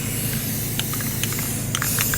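Aerosol spray of Rust-Oleum paint coating a turtle shell costume, a steady hiss with faint short bursts and clicks over low background rumble.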